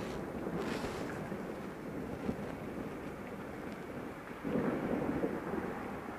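Thunder from a violent electrical thunderstorm with lightning striking close by, a continuous low rumbling roll heard outdoors under wind, swelling louder near the end.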